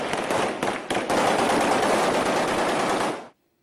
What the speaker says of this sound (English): Tripoli was celebratory with gunfire